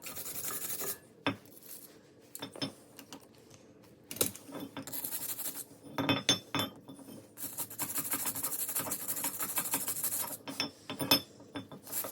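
A BMW brake carrier and caliper are scrubbed clean in bursts of harsh, close scraping and brushing, with short quiet gaps and a few sharp clicks between strokes.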